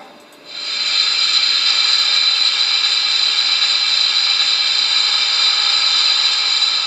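A loud, steady hiss of steam venting from the safety valve sound effect of a Trix/Märklin SNCF Class 241 A model steam locomotive starts abruptly and holds constant for several seconds.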